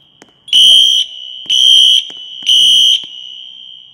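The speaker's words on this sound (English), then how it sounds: "Men's bathroom fire alarm." Wheelock NS fire alarm in a school men's bathroom, three loud evenly spaced horn blasts about half a second each over a continuous high strobe whine, close and harsh.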